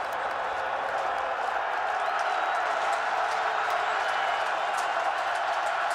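A packed football stadium crowd on senior day at the 2011 Clemson vs Wake Forest game, keeping up a continuous wash of cheering and applause-like noise at a constant level from start to finish.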